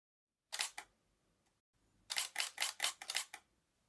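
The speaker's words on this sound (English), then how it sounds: "Fairly quiet shutter on this camera" A fairly quiet camera shutter fires close by: a short pair of crisp clicks, a pause, then a rapid burst of about seven shutter actuations. There is no talking.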